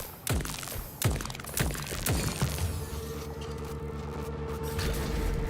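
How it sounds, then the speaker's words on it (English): A shock pistol in the video game Atomic Heart, fired in several sharp electric bursts about once a second, each trailing into a ringing, metallic decay that then settles into a sustained electrical hum. "Hold on, let me try the shock pistol."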